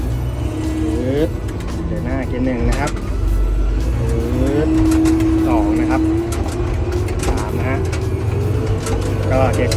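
A Komatsu WA300-3E wheel loader in first reverse gear, its engine a loud steady drone that rises in pitch, with someone talking over it.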